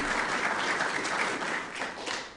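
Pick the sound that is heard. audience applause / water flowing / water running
audience applause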